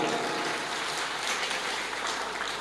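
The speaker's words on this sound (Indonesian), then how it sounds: "Tepuk tangan untuk Nahdlatul Ulama." Audience applause at an Islamic religious lecture: a dense, continuous wash of many hands clapping together, steady in level throughout, with no clear voices over it.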